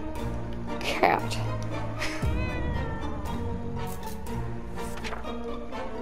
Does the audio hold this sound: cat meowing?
yes